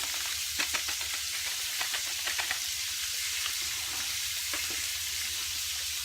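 McCormick hot pot mix stirred into a hot cast iron pan gives a constant frying hiss with light scattered ticks and scrapes of stirring, close and even.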